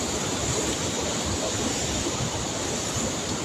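Flood water surges at a dam after a typhoon, a dense, steady broadband roar of rushing water, loud and continuous with no clear voices.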